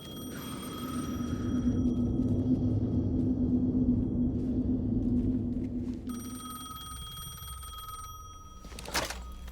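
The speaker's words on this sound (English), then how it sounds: "The phone again." A telephone rings repeatedly in the Alan Wake 2 video game, its bell tone sounding over a low rumbling ambience before it stops and a sharp burst follows near the end.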